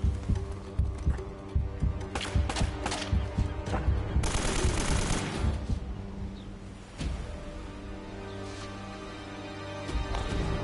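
Rifle gunfire from the video game Uncharted: repeated sharp shots in bursts, some quick and clustered, over a dense layer of game noise and music, with a louder noisy stretch partway through.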